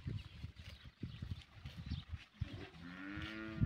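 Cows let out onto green pasture shuffle and thud nearby before one lets out a long, clear moo that swells and holds to the end, with no talk over it.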